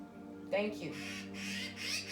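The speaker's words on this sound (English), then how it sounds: "That bird's chiming on in." A bird squawks outdoors in a short, fairly loud call that rises over a steady background hum, followed by further squawky bursts.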